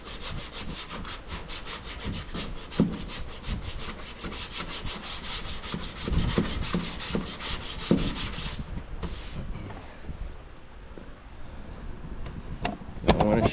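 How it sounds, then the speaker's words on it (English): Car bodywork sanded by hand with 80 or 180 grit paper, a steady, rapid back-and-forth scraping rasp repeated in close, even strokes, pausing briefly before resuming. "As I sand, the lines will disappear."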